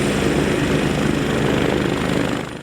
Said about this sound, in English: their hoist rescue team with 2 different helicopters today